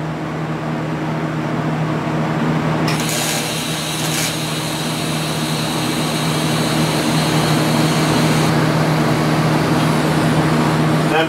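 An impeller is stitch welded onto a shaft for a clam pump build, giving a steady, loud crackling buzz that runs unbroken for the whole stretch, with a brighter layer joining partway through.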